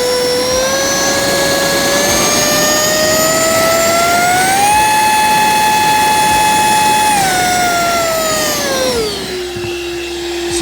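Ryobi compact HP blower whirring steadily, then rising to a higher, louder whine as the trigger is squeezed further, holding at speed and then winding down near the end, close and continuous with no voices.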